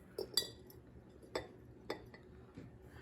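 A metal tea ball is set into a glass quart jar, giving a few light, sharp clinks spaced over a few seconds, close and faint in a quiet room.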